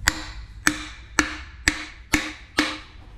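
A hammer strikes a seal-fitting tool to drive an oil seal into a RockShox fork, giving six sharp, evenly spaced metallic taps about half a second apart, close and clear with no talking.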